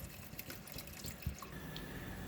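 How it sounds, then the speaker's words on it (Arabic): Tap water running and splashing into a cooking pot holding two grated soap bars, a soft continuous pour with light drips and a brief knock, quiet and without talking. "هحط عليها لتر ونص مية اهي"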